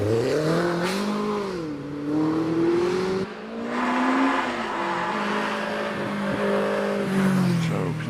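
Caterham 7 race car with a 2.1 litre engine climbing a hillclimb course, its engine loud and close with rising and falling revs through the bends, with a brief lift off the throttle midway and a faint voice underneath.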